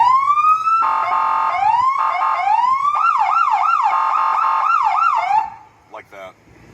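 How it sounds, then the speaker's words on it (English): A Fort Walton Beach police car siren is demonstrated up close: a loud rising wail, then a fast repeating yelp, before it cuts off and a short horn-like blast follows. "we also have the air horn, which we'll typically use to just get somebody's attention real quick, get them out of traffic"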